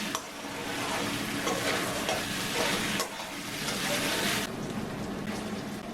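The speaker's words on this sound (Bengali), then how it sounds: "এবারে সব কিছু একটু ভালো করে কষিয়ে নেব।" Spices and marinated chicken sautéing in a pan for Punjabi-style tari wala chicken, giving a loud, continuous hiss with faint stirring rustles and a short dip partway through.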